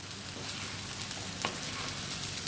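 Crispy fried chicken tossed in a hot pan with carrot and curry leaves for a Kerala-style thattukada chicken fry, a steady close sizzle with faint stirring scrapes.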